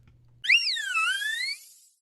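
Sylveon's cry from a Pokémon video game, a single short synthetic chirping call with a bright warbling pitch that rises then slides down, heard alone and clearly.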